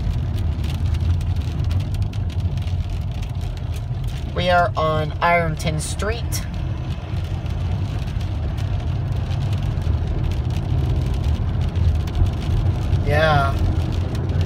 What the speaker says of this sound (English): The rain and wind is starting to pick up.